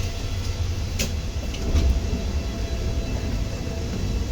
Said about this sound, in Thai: เราอยู่ๆก็ได้ขึ้นรถไฟ